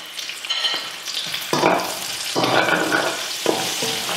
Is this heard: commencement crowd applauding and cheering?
no